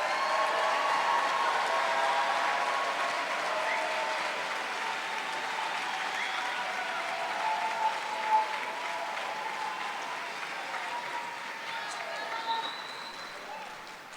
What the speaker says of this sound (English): Let's have a round of applause for these amazing graduates.